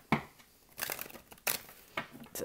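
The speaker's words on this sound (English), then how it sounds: "It's a terrible shuffle." A deck of tarot cards is shuffled by hand in several quick riffling, crinkly bursts separated by short pauses, close to the microphone, with no speech.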